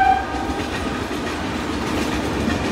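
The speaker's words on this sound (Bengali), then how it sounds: "বাড়ির সামনে ট্রেন লাইন হলে কি সমস্যা, সবসময় ঝরঝর ঝরঝর করে আওয়াজ হয়" A train runs along the line right in front of a house, a continuous close rumble and rattle of passing cars, with a brief horn tone at the very start.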